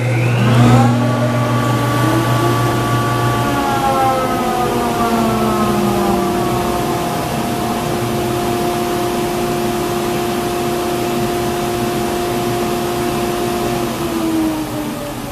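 A woodworking jointer spins up in a shop with an automatic blast gate and dust collector, giving a loud rising whine that settles into a steady tonal hum and slowly tapers over about fifteen seconds, with no talking.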